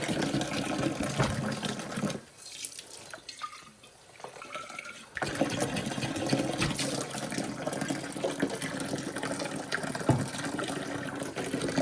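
Running water from a kitchen tap rinses out a container in the sink, a steady close splashing rush that drops away briefly partway through and then resumes.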